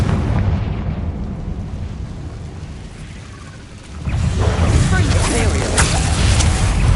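A Confringo fire spell bursts in Hogwarts Legacy, a broad rumbling blast swelling midway through, layered over ongoing noisy game ambience.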